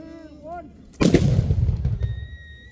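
A musket fires at Fort George during a historical demonstration, one sharp loud report followed by a rumbling echo that fades over about a second, with voices and a whistle-like tone heard before the shot.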